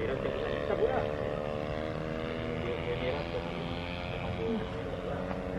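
A TDS 700 class radio-controlled model helicopter flies at an outdoor RC flying field, its steady high turbine-like whine and rotor drone holding constant throughout with faint background activity.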